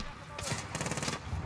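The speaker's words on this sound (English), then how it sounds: "let me run up on him with my submachine gun" MP5 submachine gun in the Modern Warfare campaign, firing two short rapid bursts close by, the second slightly longer, with voice sounds faintly underneath.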